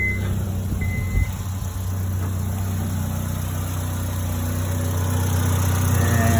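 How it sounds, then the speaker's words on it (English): A 2002 Honda Civic engine with its failed AC compressor bypassed starts up and settles into a steady, smooth idle, a close, continuous low hum with a brief bump at the start. "I don't know if you guys can hear me motor, but I just bypassed the AC"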